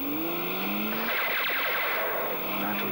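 A fast race car roars past with a brief tyre squeal and skid, its engine pitch rising then falling, loud and close over a few seconds with no voices.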